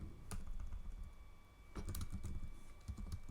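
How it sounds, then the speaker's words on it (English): Quiet, rapid clicking of keys on a computer keyboard while typing in a terminal, with a brief pause midway before the typing resumes. "I'm going to open the node server by just typing node on my terminal"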